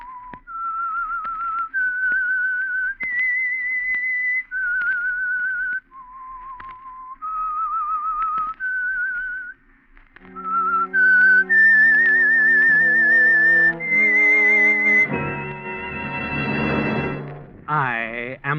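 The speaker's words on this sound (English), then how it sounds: "That whistle is your signal for the Signal Oil program" A whistled signature tune opens a radio mystery program: a single whistler carries a slow melody of clear sustained notes, then sustained orchestral chords take over.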